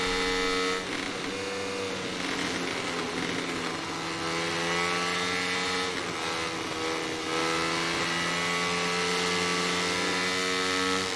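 Racing motorcycle engine in the MotoGP 17 video game at the Czech Grand Prix, a loud, continuous high-revving whine with shifting pitch as gears change, steady throughout with no talk over it.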